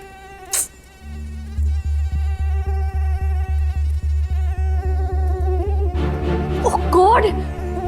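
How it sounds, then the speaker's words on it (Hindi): Mosquitoes whine in a room with a continuous, close, high-pitched buzz, and a voice speaks briefly near the end. "इतने मच्छर कैसे है इस कमरे में? पूरी रात सोने नहीं दिया।"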